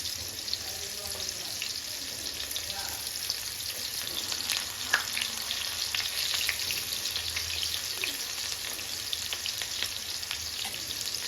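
Bitter gourd slices fry in a pan of oil with a steady, even sizzle that runs the whole time, with faint clinks and small handling noises on top and no talking.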